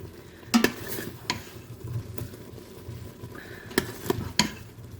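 Cooked potatoes being scooped out of a pot with a utensil, giving a few sharp scrapes and clinks over a soft, moist background rustle, close and fairly quiet, with no talking.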